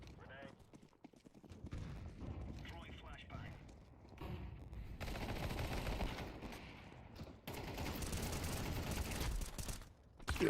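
Weapon fire in a Windows video game: bursts of rapid gunshots in several volleys of uneven loudness, with short pauses between them and some talk mixed in.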